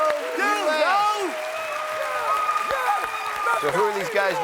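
A group of fraternity brothers in a game show studio audience whoops, yells and cheers loudly, with applause mixed in and a voice talking over the noise near the microphone.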